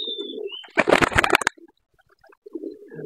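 A domestic pet pigeon coos softly and nearby in low murmuring phrases, interrupted by a brief burst of fluttering or scuffling before cooing resumes.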